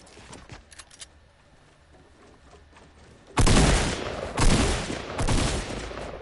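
Video game gunfire bursts out loudly in rapid volleys after a quieter stretch of faint clicks, several sharp shot clusters following one another.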